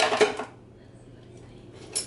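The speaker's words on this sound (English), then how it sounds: "we got a lot of dishes in there." Dishes clattering in a home dishwasher: a brief burst of clinking plates and cutlery at the start, then near silence and a second short clink at the end.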